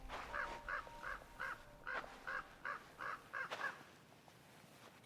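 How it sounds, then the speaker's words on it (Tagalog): Crow cawing in a spooky nighttime horror-story setting, about a dozen evenly spaced harsh caws, fairly faint and distant, then a quieter stretch. "Ito na naman ang uwak."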